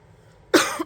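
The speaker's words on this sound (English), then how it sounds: "Sorry about the coughing." A single sharp cough from a person with tree pollen allergies, close and loud, comes after a near-silent pause.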